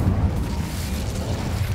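An Incendio fire spell cast in Hogwarts Legacy: a loud, dense roaring whoosh of flame that stays steady and low-heavy for nearly two seconds, with no speech over it.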